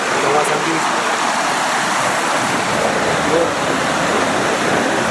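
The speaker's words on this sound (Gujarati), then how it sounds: "જે મસ્ત પાણી ચાલ્યું જાય છે ખડખડ વહેતું" A river near Nandeshwar Mahadev, about 15 km from Udaipur, rushes and gurgles over rocks near a small dam, a loud, continuous, broad wash of moving water close at hand.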